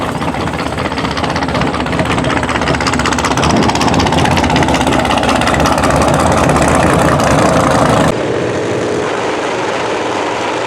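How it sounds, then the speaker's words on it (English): A motorcycle engine runs loud and steady as the bike is unloaded from the back of a toy hauler, a dense continuous rumble that drops sharply in level near the end. "I'm about to unload the motorcycle out of the back of the toy hauler"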